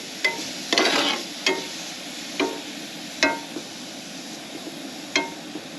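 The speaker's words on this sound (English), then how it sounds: "Give it a nice little stir, get all the oil spread around." Black beans stirred in oil in a camp pan, a close series of sharp scraping strokes spaced about a second apart over a low, steady sizzle.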